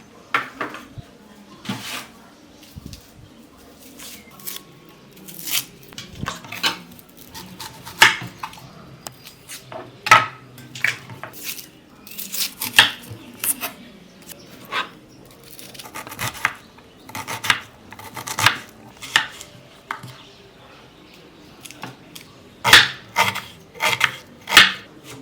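A kitchen knife chops 1.5 kilograms of large onions finely on a board, giving irregular bursts of sharp taps and scraping strokes close by with short pauses between them.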